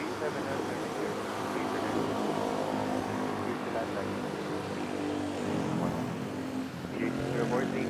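A Japan Airlines Boeing 787-9 at Manila airport, its jet engines giving a steady distant rumbling roar while someone talks over it.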